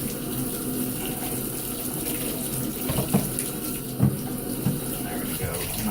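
Tap water runs steadily into a sink while aquarium canister filter pads from a Penn-Plax Cascade 1200 are rinsed, with a few soft clunks and splashes of handling breaking the even gush.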